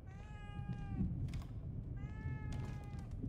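A cat in the video game The Evil Within 2 meows twice, two clear, tonal cries about a second apart over a low background rumble, fairly faint.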